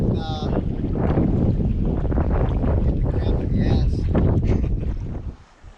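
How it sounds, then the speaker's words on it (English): Strong wind buffets the microphone out on Aubrey Lake during a canoe trip, loud and gusty throughout with brief voice-like bits in the roar, before easing off at the end. "Told you it's windy out."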